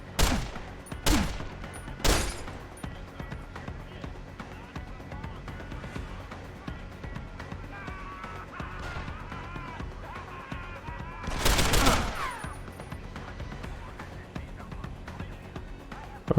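Gunfire in Deus Ex: Human Revolution: a few sharp, loud shots near the start, then a heavier burst of rapid fire later, with quieter game ambience between and over a steady background bed.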